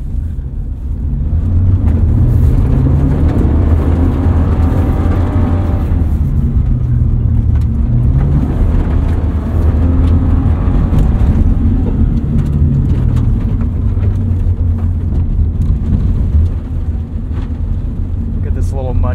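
A 2022 Subaru BRZ on stock suspension drives a muddy rally track. Its engine drones steadily and loudly with road rumble and wind buffeting, and someone talks over the noise throughout.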